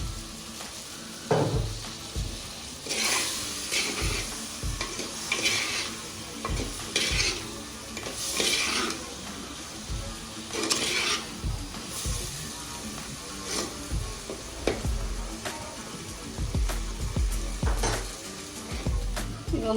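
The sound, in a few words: brinjal pieces frying in oil for curry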